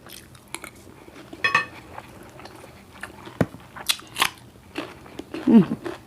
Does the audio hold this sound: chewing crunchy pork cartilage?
yes